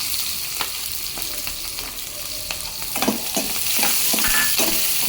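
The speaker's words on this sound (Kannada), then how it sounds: "ಎಲ್ಲವನ್ನು ಎರಡು ನಿಮಿಷ ಚೆನ್ನಾಗಿ ಫ್ರೈ ಮಾಡ್ತೀವಿ" Dry chili, green chilies, curry leaves and onion frying in hot oil, a loud continuous sizzle with repeated scraping stirs that grows busier toward the end, no voices.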